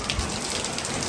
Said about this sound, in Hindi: यहाँ पे बीजी बारिश हो रही है